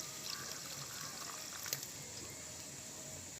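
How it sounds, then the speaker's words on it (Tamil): Water pours steadily and continuously into a cooking pot with a soft splashing, close by, for a few seconds without any talking. "தேவையான அளவு தண்ணி சேர்த்துக்கலாங்க"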